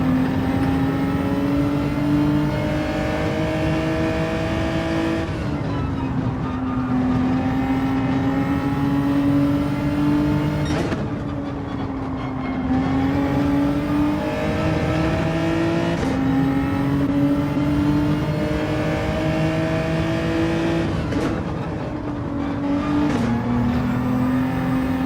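A race car engine in the Gran Turismo 7 video game drones loudly and steadily for 25 seconds. Its pitch climbs through each gear and drops sharply at upshifts, repeating in a regular pattern of pulls.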